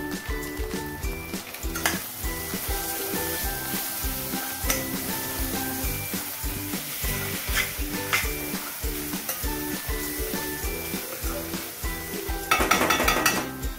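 Vegetables stir-fried with Schezwan fried rice masala sizzle steadily in a pan, with a rhythmic scrape and clink of a spatula against the metal throughout and a brief louder burst near the end.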